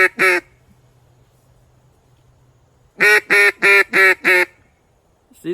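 A duck call is blown in short, honking quacks: a quick pair, a pause, then a comeback run of five loud, evenly spaced notes, and the start of one more at the very end, all imitating ducks.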